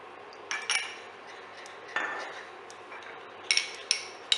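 Titanium oxide being mixed with a little water for white poured sugar decoration, giving a few light clinks and scrapes of utensil against a container in short separate bursts, close and fairly quiet, with no talk.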